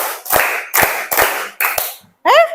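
Schoolchildren in a classroom ice-breaker game clap together in a counted pattern: five sharp group claps in uneven pairs and singles, then a pause and a short spoken voice.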